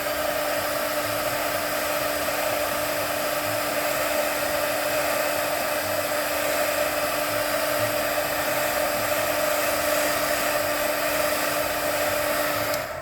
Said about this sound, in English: I'm going to go ahead and heat set it anyway, just because I already have the ink on it, with the embossing powder on it